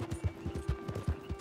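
Horse hooves clip-clop in a video game, a steady galloping rhythm of about five close, fairly loud beats per second over a constant low background hum.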